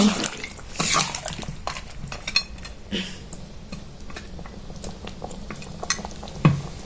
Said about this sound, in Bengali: এখন একটু জিরে গুঁড়ো দেব, দিয়ে আর একটু ভালো করে নেড়ে চেড়ে